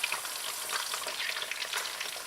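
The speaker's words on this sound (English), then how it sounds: "While the fish is frying over there" A whole fish fries in a shallow layer of hot oil that reaches only halfway up its side, giving a steady, close, dense crackle and sizzle with small pops and no voices.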